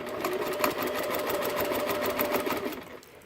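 A sewing machine with a walking foot, about fifteen years old, stitches in a loud, close, rapid rhythmic chatter that holds steady for a few seconds before slowing and stopping.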